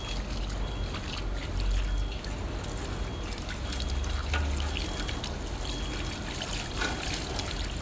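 Water is poured and trickles over someone bathing without a shower in the countryside, a continuous close splashing stream with uneven surges and no talking.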